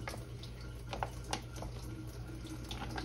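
Cold tap water runs into a bowl for tempura batter, a steady gentle splashing stream with a few louder spatters, fairly quiet and close, with no talking.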